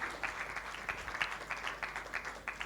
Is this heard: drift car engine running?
no